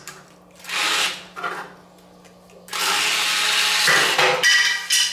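Toy Kobalt power saw for kids cutting the wood piece supplied with it, giving two short buzzing bursts and then a longer, louder grinding stretch near the mic, over a steady low motor hum.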